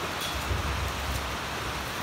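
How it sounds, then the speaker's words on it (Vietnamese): Heavy rain pours steadily outdoors on a cold day in Hai Phong, a dense, unbroken hiss with no pauses and no voices. "Hải Phòng chú em hôm nay lạnh và đang mưa rất là to"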